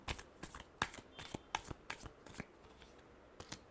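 Tarot cards are shuffled by hand, a quick run of soft, crisp slaps and flicks in an uneven rhythm, close but quiet, with no speech.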